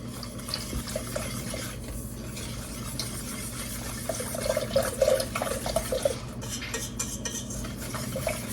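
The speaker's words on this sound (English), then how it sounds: "I'm going to start adding my milk." Milk poured into a pan over medium heat, a continuous liquid rush mixed with stirring and occasional clinks of a utensil against the pan, steady and close.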